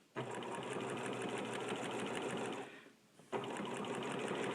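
A sewing machine fitted with a free-motion foot runs at a steady high speed while quilting, pauses briefly, then starts again with the same continuous whirring stitch rhythm.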